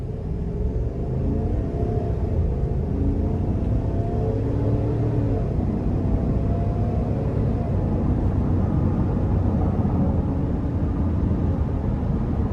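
A 2024 Chevrolet Tahoe Premier 4WD with the 5.3-litre V8 pulls away at moderate, partial throttle, its steady low engine drone and road rumble filling the cabin continuously with no talk.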